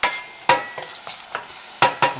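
Onions frying in butter in a pot, a steady soft sizzle broken by several sharp stirring scrapes at irregular intervals, close and fairly loud.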